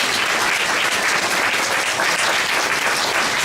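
An audience at a community race talk applauds the facilitators in loud, dense, unbroken clapping that holds steady from start to finish, with no talking over it.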